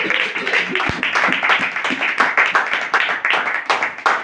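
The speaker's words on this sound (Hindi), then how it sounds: "मरियम के लिए एक बार जोरदार तालियां।" A church congregation breaks into loud, dense applause close by, a rapid, continuous patter of many hands that lasts several seconds.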